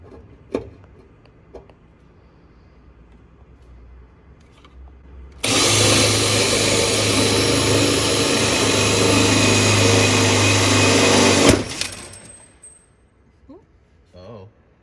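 Power drill boring a hole in an ice tank, a loud sustained whine that starts abruptly and runs for about six seconds before cutting off, with quieter handling noises and brief talk around it.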